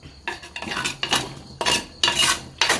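Metal utensil scraping and clinking against a pot of chicken curry with coriander powder in a series of bursts, close by, with no voices.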